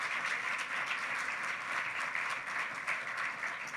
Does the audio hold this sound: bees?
no